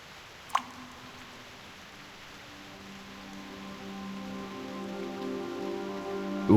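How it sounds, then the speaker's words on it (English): Rain falls in the Reverse 1999 video game. The soft hiss builds gradually louder over several seconds, with a single sharp tick near the start and a faint tonal background underneath. No one speaks. "Go ahead and touch the raindrops."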